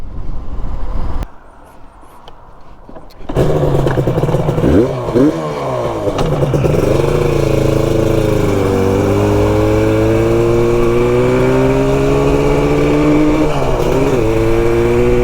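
A Yamaha RD350 café racer engine roars close and loud while riding, with a brief drop to quiet before revs climb and hold in a rising, buzzing two-stroke drone with wind noise.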